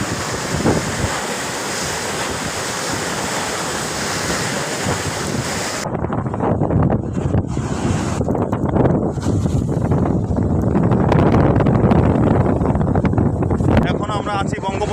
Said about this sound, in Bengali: সমুদ্রের ভিডিও করা হচ্ছে এখন।